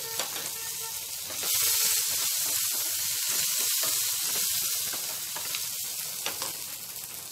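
Green chillies fry in oil over a medium flame for a tomato-mint chutney, giving a steady loud sizzle with crackling bursts and a few stirring scrapes throughout, no voices.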